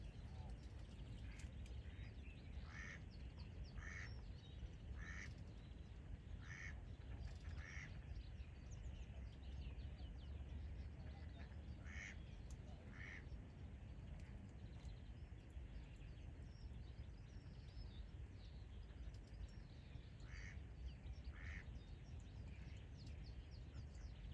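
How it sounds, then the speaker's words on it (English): Ducks quack at a fishing lake, faint and distant, in short repeated bursts scattered over steady outdoor background noise. "Bloody ducks."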